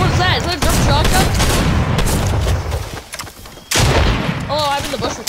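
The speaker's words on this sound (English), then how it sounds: "Is that a jump shotgun?" Shotgun blasts in the Fortnite video game, two loud bursts a few seconds apart, heard over a busy game soundtrack with chirping effects.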